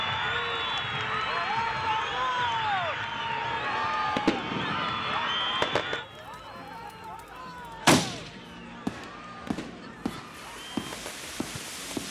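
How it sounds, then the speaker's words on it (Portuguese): Firecrackers go off near a football field during a Sunday amateur match, sharp bangs ringing out at intervals with a loud nearby blast and echoing pops, over crowd noise and voices that fade partway through. "Você nunca sabe quando é bombinha, quando é tiro."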